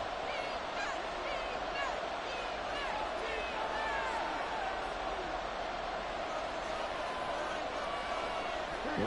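Roaring stadium crowd in an EA Sports football video game, a dense continuous wall of cheering and noise that stays loud throughout with no clear gaps.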